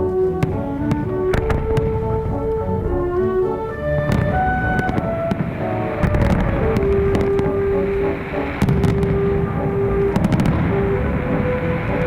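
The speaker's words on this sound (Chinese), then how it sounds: "就是不同形态和方式的焰火。" Fireworks at the Las Fallas festival in Valencia, Spain: scattered sharp cracks and bangs ring out over continuous loud music for the whole stretch.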